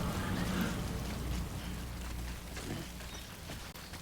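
Rain falls in the video game Death Stranding, a soft, steady patter of drops that continues throughout with faint low rumbling beneath, alone with no talk.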